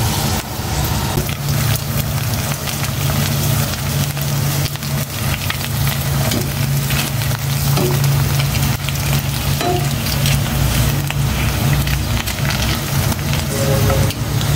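Tilapia fish frying in a pan of oil, a dense continuous sizzle and crackle holding steady and loud with no voices.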